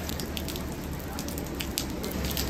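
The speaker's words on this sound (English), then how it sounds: "there is torrential rain" Torrential rain pours down over central Auckland, a steady dense broadband hiss of heavy rainfall with scattered splashes, loud and continuous throughout without pause.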